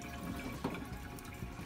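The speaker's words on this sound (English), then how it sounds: "the water's draining" Water from a goldfish tank drains through a siphon hose, a faint continuous gurgling trickle heard close up and alone.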